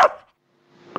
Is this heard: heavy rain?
no